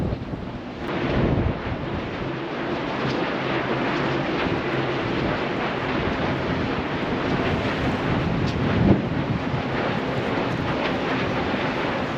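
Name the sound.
wind blowing on a hillside with windmills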